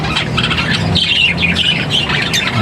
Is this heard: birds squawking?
yes